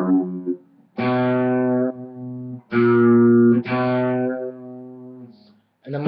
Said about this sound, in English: when it's done, it should sound something like this with the flange settings